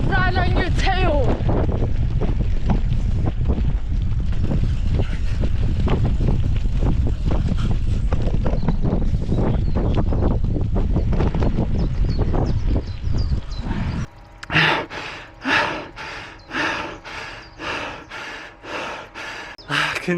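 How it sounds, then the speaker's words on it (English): Gusty wind buffets the microphone during a hard 400m track interval workout, a dense roaring rumble with heavy breathing and footfalls for most of the stretch, then easing into rhythmic gasping breaths near the end. "Wind's picking up actually."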